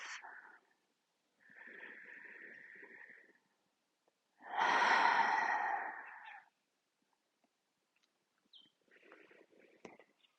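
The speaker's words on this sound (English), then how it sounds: "And taking another deep breath." A slow, deep breath during a qigong exercise: a soft airy inhale, then a louder, longer whooshing exhale, followed by quieter breathy sounds, close and intimate in an otherwise silent room, with no one talking.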